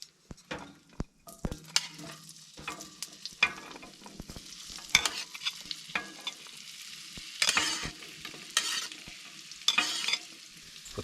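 Potatoes sizzle in a skillet with bacon at a cold forest campsite, with a steady frying crackle and repeated stirring scrapes and clatters close by.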